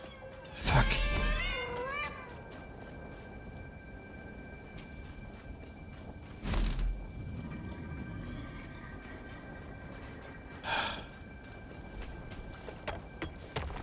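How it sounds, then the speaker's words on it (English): Cats meow in the Satisfactory video game, a few short high mewing cries about a second long, recurring at intervals over a steady mechanical hum from the game, with faint speech in places. "They're cute cat. They go mew."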